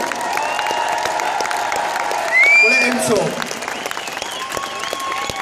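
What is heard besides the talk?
rally crowd applause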